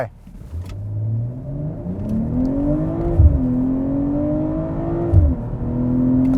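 A BMW M340i xDrive LCI accelerates hard from 0 to 100 km/h in sport mode, its engine note climbing steadily through the gears, with brief dips at each shift, loud and close throughout.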